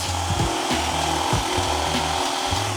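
A Forstner bit grinds steadily through wood with a rough, whirring bite, close and continuous, with brief dips as pressure changes.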